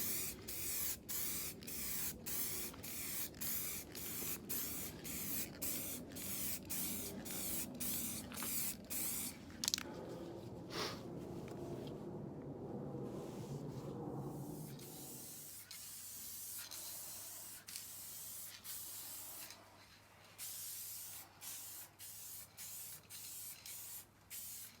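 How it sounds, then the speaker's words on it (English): Spray paint cans coat car bumper parts for a Mini John Cooper Works F56 in a string of short, regular hissing bursts, then a long continuous hiss, then more scattered quiet bursts over a low background hum. "Wow, that was plenty of spraying."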